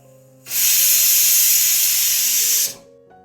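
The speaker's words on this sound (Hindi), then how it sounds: "कुकर में एक सीटी आ चुकी है" A pressure cooker whistle releases a loud, steady hiss of steam for about two seconds over full gas flame while cooking pasta, starting and stopping abruptly over a faint background hum.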